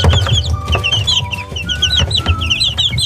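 Young Silkie chicks, about three weeks old and including black super Silkies, peep in rapid, overlapping high chirps, close and loud, with no voices.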